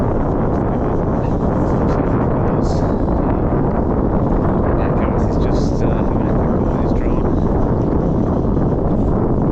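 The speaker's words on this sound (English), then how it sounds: "it's just too windy here" Strong wind blows across the estuary between Borth and Aberdyfi in Wales, buffeting the microphone with a constant, loud rumbling roar throughout while someone talks over it.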